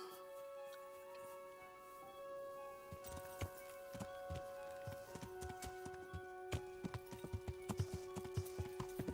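Horse hooves clip-clop in a steady trotting rhythm in the video game Kingdom Come: Deliverance, growing louder and more distinct toward the end, over a quiet tonal background.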